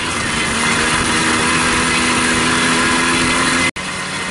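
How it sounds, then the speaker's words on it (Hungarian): Off-road Babetta mopeds rev hard climbing a hill in a loud, continuous buzzing roar, engines straining close by with one brief dropout near the end. "A dombra is mennek fel a motorok."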